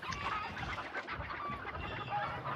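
Video game chickens cluck in a busy, overlapping flock, close and continuous with sharp squawks scattered through.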